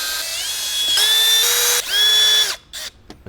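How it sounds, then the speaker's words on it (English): A cordless power driver whirs in several bursts, running in trim screws on a Jeep Wrangler. The high-pitched motor whine rises and changes pitch as each screw seats, then short taps follow, close and loud, without talk. "Let's go ahead and put these 6 screws back in."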